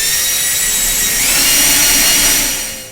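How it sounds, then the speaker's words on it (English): A power drill bores into wood through a strip of tape, one sustained high whine that swells slightly midway and then trails off as the bit stops. "So now you drill into the tape"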